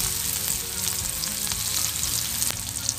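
Three chillies and onion slices fry in hot oil left from frying fish, a dense, loud crackling sizzle close up with occasional stirring scrapes, steady throughout and without any voice.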